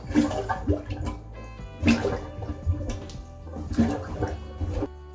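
Someone works a plunger in a clogged household toilet, giving rhythmic pushes that produce wet gurgling sloshes and sucking water sounds, with three or four surges evenly spaced over several seconds.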